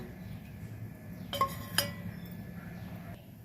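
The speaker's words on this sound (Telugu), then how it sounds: "బాండి పెట్టాలి. పెట్టేశాను." A metal kadai pan is set down on a kitchen stove while an Andhra-style ridge gourd curry is prepared, giving two quick, close metallic clanks over a low, steady kitchen hum.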